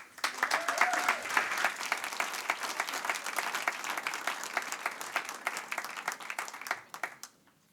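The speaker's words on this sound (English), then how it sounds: "Let's give them a warm round of applause." An audience claps warmly before a Rachmaninoff piano performance at an evening concert. The applause is moderately loud and sustained, then tapers off at the end.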